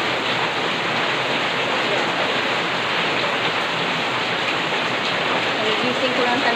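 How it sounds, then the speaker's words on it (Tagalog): Heavy rain pouring outdoors during a flooding downpour, a dense, even hiss of falling water that stays loud and constant throughout. "Super lakas ng ulan. Kung naririnig mo guys, ayan."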